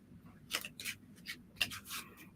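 Soft, papery tarot card shuffling in a few quick bursts, quiet and close, with short riffling swishes and no voices.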